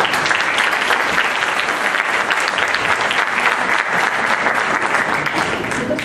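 Loud, dense applause from an audience at the opening of an international Jewish book fair, sustained and even for about six seconds with no break.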